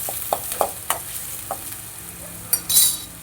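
Finely chopped large onions sautéing in hot oil, a low steady sizzle broken by sharp clicks and scrapes of a spoon against the pan and a brief louder hiss toward the end.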